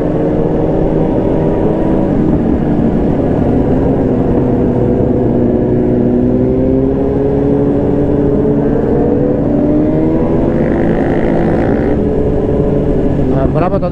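A sport motorcycle, a BMW S1000 RR or Yamaha R1, revving hard nearby, its engine tone rising and falling in continuous loud pulls while a person talks over it.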